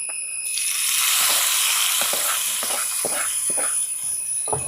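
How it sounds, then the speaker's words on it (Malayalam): Hot tempering poured into a pan of egg curry gives a steady hissing sizzle, close and continuous, with a few faint clinks of utensils. "ഈ സമയത്ത് നമ്മളിത് ഗ്യാസ് ഓഫ് ചെയ്ത് നമുക്ക് നേരെ ചട്ടിയിലേക്ക് ഒഴിച്ച് കൊടുക്കാം കേട്ടോ."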